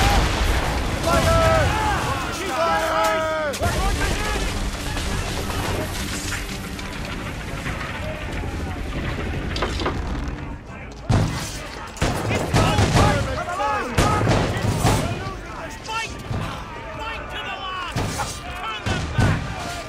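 A naval battle rages in Assassin's Creed Rogue, with rolling cannon blasts and gunfire over a dense battle din. Shouted voices cut in throughout, and heavier booming bursts come in the second half.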